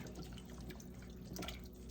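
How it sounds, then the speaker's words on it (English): Water poured from a tap into a large stew pot holding a simmering pot roast stew, a steady close splashing stream running alone throughout. "I'm going to add just a little bit more water so I have leftovers tomorrow"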